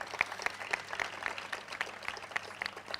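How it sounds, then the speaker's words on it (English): Audience at a university dean's list award ceremony claps in a light, scattered round of applause, individual claps distinct and fairly distant, continuing steadily throughout. "First of all, Dana, applaud her."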